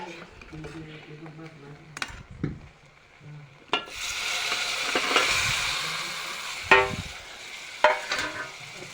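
Masala frying in a pan while being stirred, with scraping spoon strokes and a sizzle that swells loud and hissing midway, under intermittent talking.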